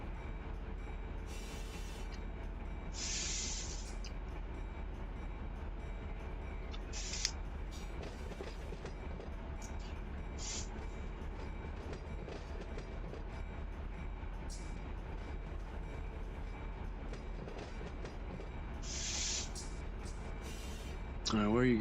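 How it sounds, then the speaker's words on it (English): Rumbling trains roll steadily through a rail yard in the Run8 train simulator, with low continuous rumble, occasional brief squeals and hisses, and people talking over it. "Yeah, there's some major trains in this yard right now."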